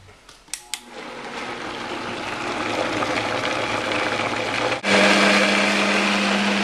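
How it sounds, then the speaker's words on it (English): A Vitamix blender blends fresh marinara ingredients: a few sharp clicks, then the motor spins up to a loud, steady whir that jumps higher and harsher partway through as it speeds up. "Alright, so I'm just going to blend this up here."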